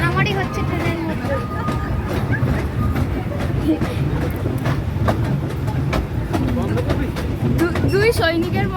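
An amusement park train ride at Nicco Park in Kolkata rumbles and clatters steadily along the track, with riders chattering and shouting throughout in a busy, crowded mix.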